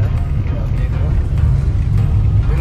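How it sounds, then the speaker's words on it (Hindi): A Maruti Ertiga CNG climbs a hill road toward Dehradun, its steady low engine and road rumble filling the cabin with a muffled voice faintly underneath. "हिल्स पे ड्राइविंग शुरू अर्टिगा के साथ"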